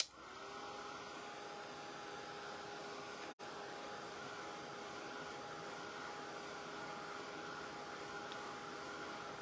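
A hair dryer blowing on a Christmas craft ornament, a steady close whooshing hum with a faint whine, briefly cut off for an instant midway, then running on.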